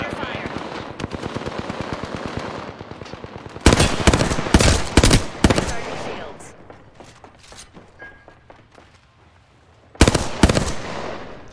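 Rapid automatic gunfire in the battle royale shooter Apex Legends, with loud bursts of close shots separated by quieter stretches and spoken voices underneath.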